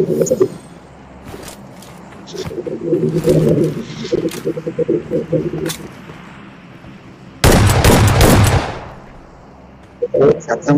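Shotgun blasts in a mobile battle-royale shooter game, loud bursts among scattered shots and one long roaring blast, with excited voices talking throughout.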